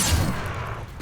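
A Bombarda spell blast in Hogwarts Legacy, one loud booming burst with a rumbling low roar that fades over about a second, with no speech.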